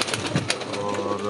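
Pigeons, show birds kept for flying, cooing and rustling close by amid background noise and faint voices, brief and somewhat muffled.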